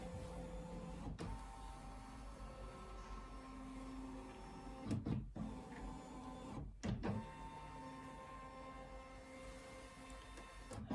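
A Brother Dream Machine embroidery machine shifts its hoop so the built-in camera can scan the fabric, giving a steady mechanical motor whir with faint tonal hum, broken by two short pauses and restarts.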